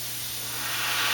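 An airbrush sprays Alclad steel metallic paint in a steady, close hiss that swells slightly louder toward the end, with no voices.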